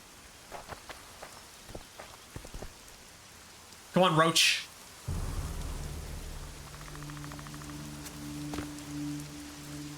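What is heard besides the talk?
rain in the video game The Witcher 2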